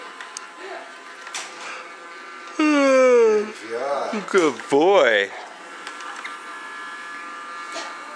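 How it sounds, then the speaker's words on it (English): A child pushes a running vacuum cleaner, its loud steady motor whine starting abruptly and surging in short bursts as it moves. Adults talk over the hum before and after. "The vacuum is a huge hit, Nana."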